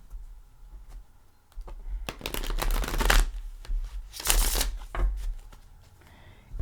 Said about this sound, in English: We're going to give it a couple shuffles though.